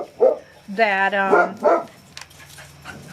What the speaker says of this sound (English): sorry, had to get the dogs to shut up there